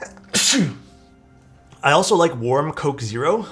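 A single loud, sharp sneeze bursts out close by, followed after a pause by a person talking.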